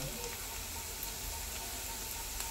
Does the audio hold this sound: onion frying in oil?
yes